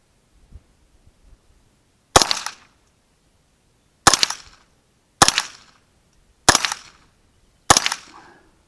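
Five sharp pistol shots crack at irregular intervals and ring off a .22 steel dueling tree target, each followed by a brief metallic ring. A few faint clicks come first, and nobody speaks.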